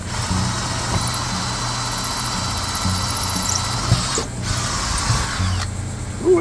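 A power drill driving a bit through a landscape lighting transformer housing, a steady whirring motor hum with brief pauses and restarts, close and fairly loud.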